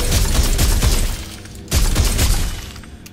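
Rapid gunfire from a weapon in the video game Dead Space 2: a loud, close burst of sharp cracks, a brief pause, then a second burst of shots.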